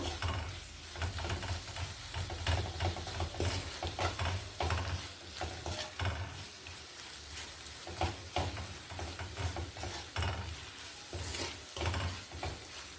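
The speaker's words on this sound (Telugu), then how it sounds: "ఇది బాగా కలుపుకున్నాం. ఈ పల్లి పొడి అంతా ఈ ఆకుకూర పట్టేలాగా." Amaranth leaves fry with peanut powder in a pan while being stirred steadily, a continuous close sizzle broken by repeated scraping strokes of the spoon, with no talking.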